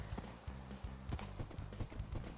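Minecraft horse hooves clip-clopping at a quick steady trot, several soft rhythmic hoof beats, faint and close with no talk.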